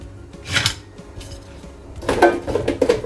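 Sausages, potato and onion with oil and salt stirred in a metal air-fryer basket, giving sparse scraping and clinking knocks, one early then a busier cluster near the end, fairly close.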